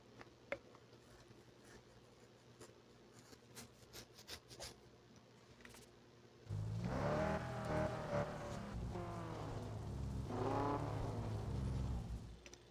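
Game car racing from Need for Speed No Limits, with a quiet ticking, rubbing stretch first and then a loud, sustained engine roar with rising and falling revs that runs to the end.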